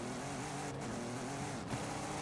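A race car engine in the Forza Horizon 5 racing game hums and drones steadily at close range, with brief dips in level.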